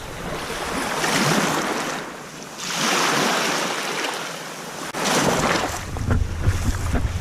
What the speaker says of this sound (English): when the waves come in, literally when they just topple over like that